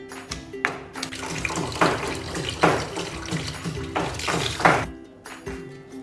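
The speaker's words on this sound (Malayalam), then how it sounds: "ഇത് നമ്മളിങ്ങനെ നന്നായിട്ട് കഴുകിയെടുക്കണം" Tap water runs steadily into a sink while yogurt-soaked chicken pieces are rinsed, with the splashing rising and falling as the meat is turned under the stream for several seconds, loud and close.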